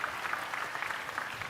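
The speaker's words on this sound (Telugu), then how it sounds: "గట్టిగా చప్పట్లు కొట్టి అభినందించండి" An audience at a political meeting on a stage claps steadily, a dense, even patter of applause heard from a short distance, somewhat muffled, lasting briefly without talk.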